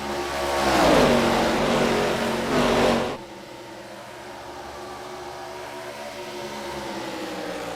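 ARCA race cars race at Charlotte: a loud, high-revving engine roars close by and then drops away sharply, followed by a fainter, steadier engine drone in the distance.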